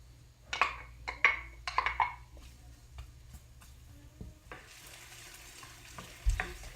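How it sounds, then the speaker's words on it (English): Shallots go into a hot oiled skillet and start sautéing, with a few sharp clattering stirs early on and then a steady broadband sizzle that holds through to the end. A thump comes near the close. "we're going to go ahead and get started sauteing our shallots"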